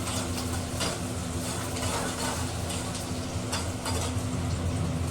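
Green chillies roast in a hot pan while being stirred, a continuous sizzle mixed with scraping and light clinks of a utensil against the pan.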